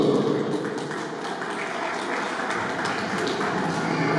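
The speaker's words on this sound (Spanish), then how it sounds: "Un aplauso para él, un fuerte aplauso de aplausos." Guests at a baptism party applaud a boy, a steady, moderately distant wash of clapping that holds evenly throughout with a faint voice underneath.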